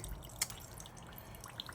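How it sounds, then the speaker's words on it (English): Fuel draining from the carburetor of a Honda GX270 small engine, a faint, steady dribble with a few soft drips over a low background hiss. "I'd like to drain down the carb anyway"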